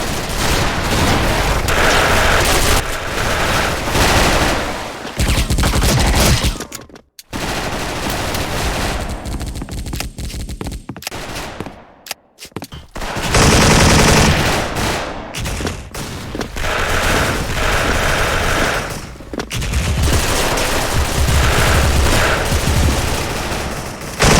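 G3A3 rifle fire in the shooter Special Force, loud rapid bursts of automatic gunfire nearly nonstop, broken by two short pauses, close and aggressive.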